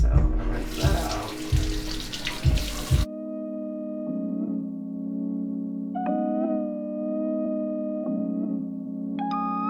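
Water gushes loudly from a bathroom tap for a few seconds with some splashing and handling noise, then cuts off, followed by a steady sustained musical tone.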